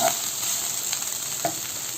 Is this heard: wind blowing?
no